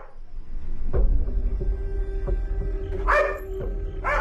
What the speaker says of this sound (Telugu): ఎందుకు అలా మొరుగుతోంది?